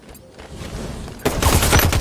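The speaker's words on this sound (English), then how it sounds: "Hostile fire." Gunfire in Halo 5: Guardians, a faint rattle that builds into a loud, dense fusillade of rapid shots in the last second, with no talk.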